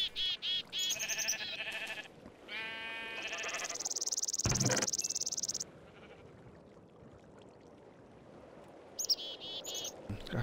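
Sheep bleat in Minecraft, a video game: several short close bleats open, followed by a long high tone and a sharp thud, then quiet until one more bleat near the end.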